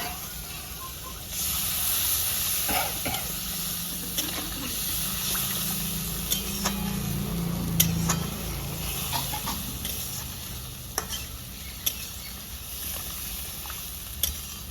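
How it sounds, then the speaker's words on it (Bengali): Water goes into a hot pan with raw green mango and shol fish, setting off a soft, steady sizzle and hiss close by, punctuated by sharp clicks of stirring. "একটু হালকা জল দিচ্ছি সেটা একটু নাড়াচাড়া করবো"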